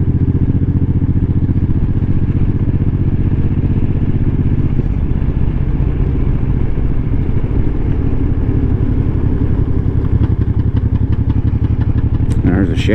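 A 1500 cc motorcycle engine idles steadily with a low, continuous rumble, a faint clatter rising near the end, while someone talks over it.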